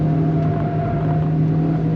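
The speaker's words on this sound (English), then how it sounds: "You can hear it understeer there." A 2003 Audi TT 225 Quattro on a race track pushes through understeer, its engine holding a steady loud droning rumble with a strong tonal hum and faint tire noise, no voices.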